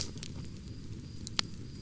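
An outdoor campfire at twilight gives off a few sparse, faint pops and snaps over a steady low background rush, with no talking.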